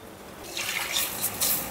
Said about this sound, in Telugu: ఇప్పుడు కొద్దిగా వాటర్ వేసుకుందాం.